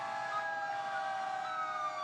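Sirens of emergency vehicles in an Independence Day parade wail in a steady, layered drone, faint and somewhat distant, sounding continuously without any voices over them.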